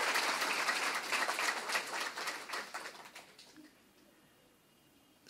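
An audience claps together to open a talk programme, a burst of fairly loud, dense clapping that thins and fades out after about three seconds, leaving near silence.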